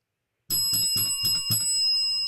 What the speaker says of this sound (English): Let me make sure my cussing bell working.